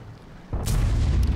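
A tank gun fires in World of Tanks, a single deep booming shot that hits hard at about half a second and then rolls on as a loud, sustained low rumble with no talking.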